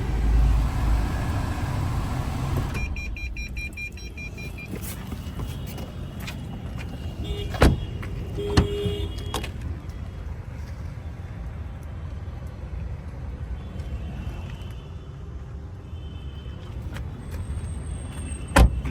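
A 2019/20 Tata Nexon XZ Plus top model is started with its push button. A low engine rumble runs steadily throughout, broken by a handful of sharp clicks and thumps, with no one speaking.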